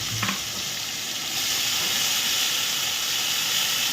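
About three spoonfuls of onion paste drop into hot oil and burst into a loud, close, hissing sizzle that swells after a moment and holds steady, a few stirring knocks at the start.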